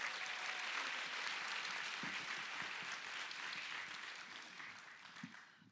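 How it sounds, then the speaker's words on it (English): A church Sunday-service audience applauds in a steady, dense wash of clapping that holds for several seconds, then slowly thins and fades toward the end. "Can we have a round of applause?"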